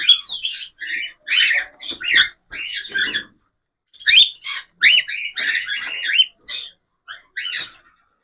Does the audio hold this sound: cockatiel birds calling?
yes